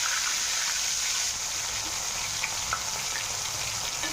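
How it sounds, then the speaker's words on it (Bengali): Rohu fish pieces fry together in hot oil, a dense, loud, steady sizzle close by with faint pops scattered through it and no speech. "প্রথমে আমি মাছটা ভেজে নিচ্ছি সব মাছগুলো একসঙ্গে দিয়ে দেবো"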